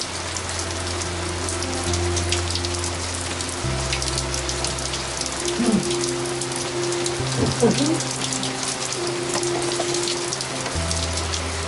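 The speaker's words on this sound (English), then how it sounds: "The hot weather builds up to thunderstorms that night, and Norm gets very wet" Steady heavy thunderstorm rain on a boat hisses and patters continuously, with low rumbling hum beneath and occasional faint knocks.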